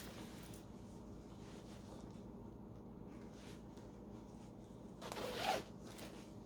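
A broken zipper on a coat is worked by hand, producing one brief, close zipping rasp near the end over a quiet, steady room background.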